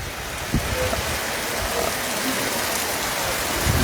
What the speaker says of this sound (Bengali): দেখতে পাচ্ছেন বৃষ্টির তীব্রতা বাতাসের গতি